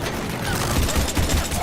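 Rapid bursts of gunfire in the sci-fi shooter Mass Effect crackle in quick, uneven volleys, loud and close, with no voices over them.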